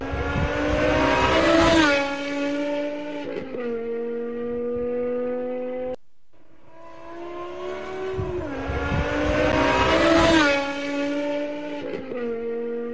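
A convoy of sports cars, among them a Mercedes Black Series and an Audi RS6, rev and accelerate past, the engines swelling loud and droning through two strong passes with no voices.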